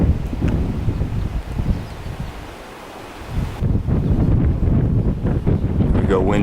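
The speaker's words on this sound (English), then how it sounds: "Wind picks up." Strong wind blows across a volcanic national park on Hawai'i's Big Island, buffeting the microphone with loud, rough gusts that ease briefly midway and then build again.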